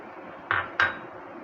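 Two quick hard clinks about a third of a second apart as a cup of macaroni goes into a salad bowl for a katori salad, close and fairly loud over a faint steady background hum.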